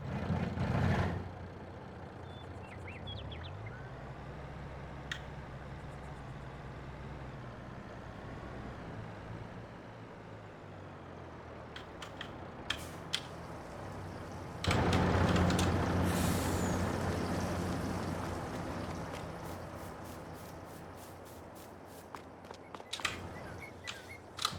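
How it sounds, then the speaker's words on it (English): Truck in Farming Simulator idling and driving with a low engine drone, a loud air-brake hiss near the start and another burst around midway, plus scattered clicks and short hisses. "We need to get this truck out of the way."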